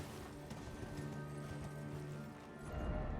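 Horse galloping in the Elden Ring video game: a steady, fairly loud run of hoofbeats in rhythmic clip-clop, continuing throughout with a brief whinny-like note and a heavier thump near the end, no speech.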